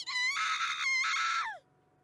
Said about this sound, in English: Sumi shouts with a voice louder than ever before